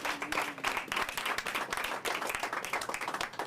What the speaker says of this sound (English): there's a round of applause